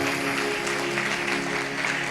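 A sermon audience claps together in a sustained, even burst of applause, loud and filling the hall, with a steady tonal hum running underneath.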